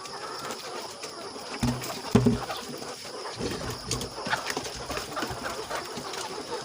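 Backyard layer chickens at 16 weeks old cluck and coo softly at a feeder amid steady farmyard noise, with a few louder calls in the middle.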